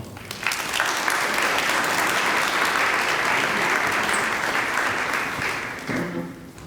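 Sustained audience applause at the Museum Parc groundbreaking ceremony in Newark welcomes speaker Victor Sloan to the podium. The steady, full clapping rises quickly, holds for several seconds, then thins out.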